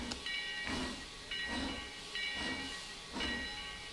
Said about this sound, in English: It's not really a nice chuffing sound.